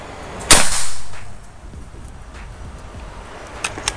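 A single sharp crack from a Bocap Black Army Phantom PCP air rifle, Predator full-CNC model charged to 2700 PSI, fired close by and followed by a brief hiss and quiet ambient noise with faint clicks.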